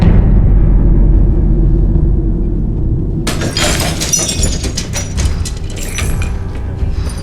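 Glass shatters loudly partway through, a sudden bright crash followed by scattered tinkling shards over a steady low rumble, as a symbolic glass-breaking effect on an Indonesian ANTV show.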